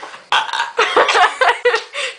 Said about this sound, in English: Jamie's burps are pretty massive.